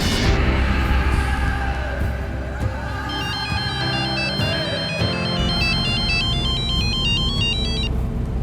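A telephone ringtone plays in a TV crime drama, its repeating electronic melody chiming over a loud, steady low background rumble from about the midpoint on.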